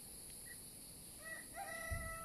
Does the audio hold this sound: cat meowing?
no